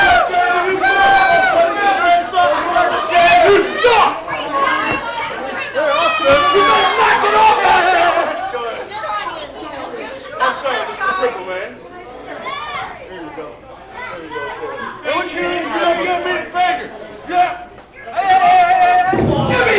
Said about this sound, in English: Crowd being a bit unruly here.